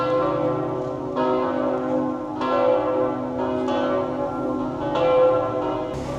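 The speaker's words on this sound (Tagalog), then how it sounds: "Ang sarap pakinggan yung tunog ng kampana." Church bells ring steadily in Lucerne, Switzerland, with rich, overlapping tones, each new strike swelling over the lingering hum of the previous ones, fairly loud and close.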